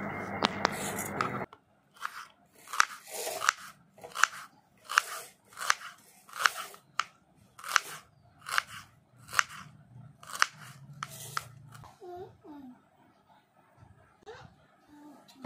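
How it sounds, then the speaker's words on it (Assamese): Two medium onions are sliced with a knife beside eggplant prep in a home kitchen, giving a run of crisp, evenly spaced crunching chops close by, about a dozen strokes, with a brief clatter at the start. "পিঁয়াজ দুটা কাটি ল'ম।"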